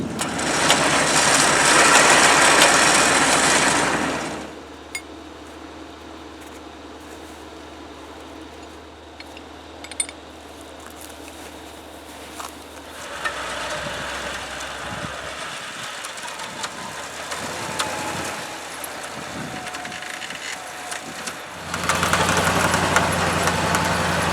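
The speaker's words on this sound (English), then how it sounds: "make sure my front winch still works" A wrecker truck's front winch winds in its cable with a steady whirring motor hum between loud engine-idle stretches at the start and end, with faint clicks and clanks during the pull.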